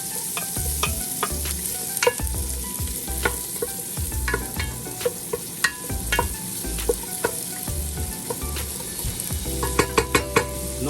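Onions sautéing in a pan at an outdoor cooking spot after a hike, a steady close sizzle broken by scattered clinks and scrapes of stirring, loudest near the end, with no talk.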